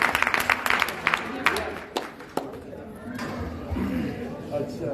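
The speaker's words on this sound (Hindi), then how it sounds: "ताली मारो।" An audience at a satsang gathering claps hands in a burst of quick, scattered claps that fade into crowd chatter and a voice.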